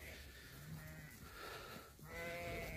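Faint bleats from Beylagan-breed sheep rise over a steady, noisy outdoor background, two drawn-out calls from a flock of young ewes some distance away.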